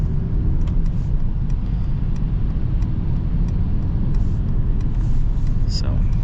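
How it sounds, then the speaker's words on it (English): Mercedes-AMG GT 4-Door pulling hard in its aggressive drive mode, a loud steady engine rumble heard from inside the cabin throughout. "it's not the big rumbly V8 that's in the 63, but it sounds pretty good"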